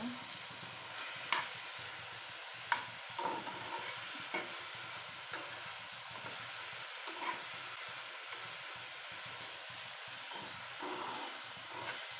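Pointed gourd (potol) slices fry in oil in a pan, a steady soft sizzle running throughout with occasional light clicks and taps of a utensil against the pan.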